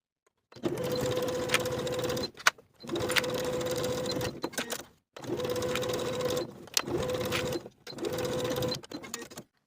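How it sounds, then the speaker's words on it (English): A sewing machine stitches the seams of a lined crossbody belt bag at a 1/4 inch seam allowance, running in four steady whirring bursts separated by short pauses. "Sew these seams with a 1/4 inch seam allowance"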